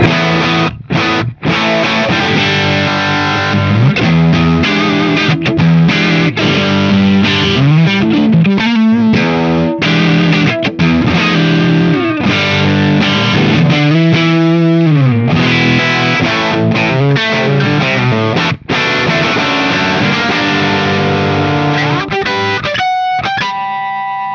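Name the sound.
electric guitar through cranked Fender Super-Sonic 22 amp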